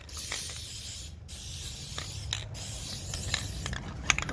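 Spray coating hisses onto bare metal on a classic car under restoration, in short, close, breathy bursts separated by brief pauses.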